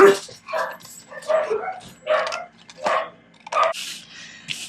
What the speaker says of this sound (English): Oh, I'm sorry about the dogs.